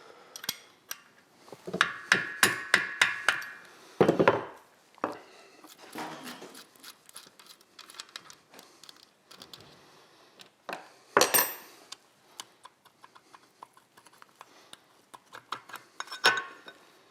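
Spanners and metal tools clink and tap against the crank nut of a 1959 BSA Gold Star DBD34 engine in a workshop, with irregular bursts of close metallic clatter separated by quieter pauses.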